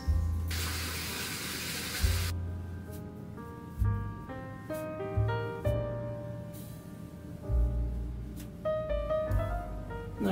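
A tap runs briefly onto dry face sponges, a short hiss of flowing water near the start followed by soft splashes, squeezes and clinks of handling at a quiet level.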